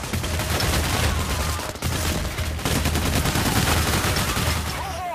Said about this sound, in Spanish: Disparando al aire.